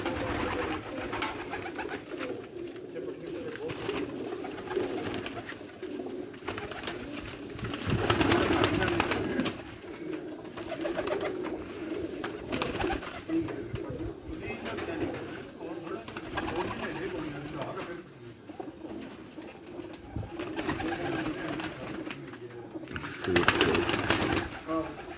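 Pigeons coo steadily and close up in a fancier's flock in Dina, Jhelum, with a continuous murmur of calls and faint voices in the background.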